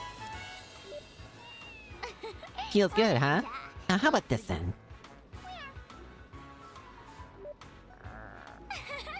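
A cat in the video game The Legend of Heroes: Trails to Azure lets out several close, wavering meows, some drawn out, while a person talks between and over them.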